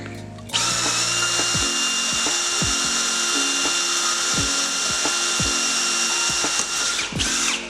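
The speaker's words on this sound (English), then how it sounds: "I'm drilling near the corners, but not at the corners" A power drill whirs steadily up close, its bit grinding through rug-tufting material with repeated ratcheting clicks, the motor winding down at the end.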